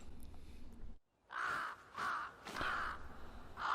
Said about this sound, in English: A freaking crow?